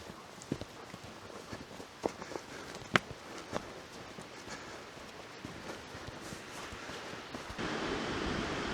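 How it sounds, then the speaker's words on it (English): The waterfall at Fall Creek Falls, Tennessee, in winter gives a steady, distant rushing hiss. Scattered crunching footsteps sound over it, and the roar grows louder near the end. "This is the falls at Fall Creek Falls."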